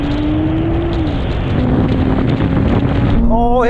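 Nissan GT-R R32, R33, R34 and R35 cars launching in a straight-line drag race, a loud continuous engine drone with rising pitch as they accelerate, buffeted by wind noise, with gear-change swoops near the end.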